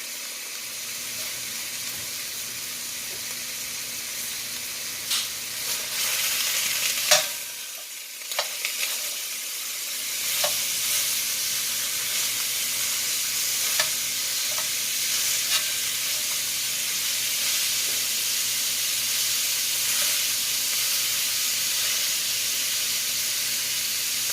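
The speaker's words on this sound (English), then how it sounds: "I'm starting with browning some ground beef." Ground beef browns in a frying pan with a steady, bright sizzle and hiss, broken by a few louder scrapes and stirring knocks near the start, continuing alone without talk.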